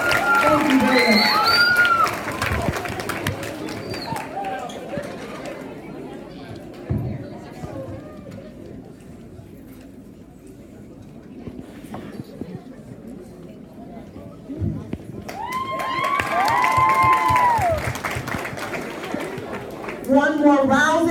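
A middle school crowd claps and cheers for a guest at a school assembly, with loud whoops and voices at the start, a quieter stretch of scattered clapping and chatter, then another swell of cheering.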